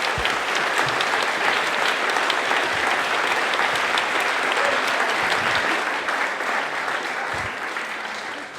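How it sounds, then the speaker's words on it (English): Sustained, dense applause from a large audience fills the whole stretch, steady and loud before tapering slightly at the end. "And a lovely big round of applause, please."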